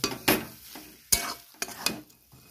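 Fried chili powder is stirred into a pan in a few short, separate scrapes and soft sizzles, close by and fairly quiet.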